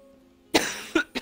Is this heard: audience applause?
no